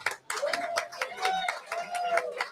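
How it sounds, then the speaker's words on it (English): A crowd at a beer festival draft event cheers and claps in an outdoor brewery setting, with brisk, irregular applause bursts and whoops close by, while voices chatter and call out under the noise. "Give a cheer when you hear your brewery or when you hear someone else's."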